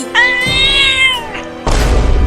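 A cartoon cat lets out a long, drawn-out meow, loud and close, followed by a sudden thudding crash-like burst.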